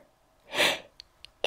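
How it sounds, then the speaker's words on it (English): One close, forceful human sneeze with a quick breathy burst, followed by a few short sniffs and a sharp intake of breath. "that I'm about to sneeze"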